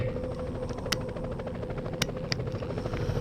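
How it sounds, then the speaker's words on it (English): Helicopter in the PlayStation video game Spider-Man, a steady rhythmic rotor chop with engine drone, heard close and continuous, punctuated by a few brief sharp bursts. "I saw the chopper dropping off armed robbers on top of the bank"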